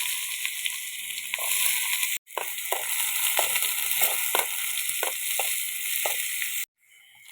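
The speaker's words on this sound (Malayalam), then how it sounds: "ചെറിയ ഉള്ളി ഇട്ടിറക്കുക. ചെറിയ ഉള്ളിയാണ്." Small onions in hot coconut oil in a pan for a Kerala red fish curry, sizzling loudly and steadily with crackling pops and stirring clicks, broken by a short pause partway and again near the end.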